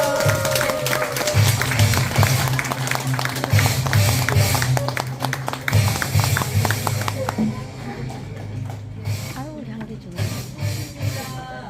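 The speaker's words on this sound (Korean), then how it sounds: "저희 김옥자 강사님 나오실 때 뜨거운 박수로 환영해 주세요" Audience applause welcoming an instructor onto the stage at a business seminar, a dense steady patter of many hands that carries on for several seconds, then thins and fades toward the end while a murmur of voices continues underneath.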